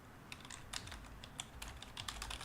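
Rapid computer keyboard typing clatters steadily through the typing game in Software Inc, with dense, uneven bursts of keystrokes close up and no voices.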